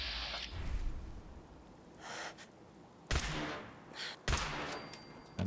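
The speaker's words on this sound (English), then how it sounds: "Okay, 2 shots on an eyebot." Gunfire in Fallout 4, shots aimed at an eyebot: a couple of sharp, loud bursts stand out against quiet breathy game ambience, spaced a second or so apart near the end.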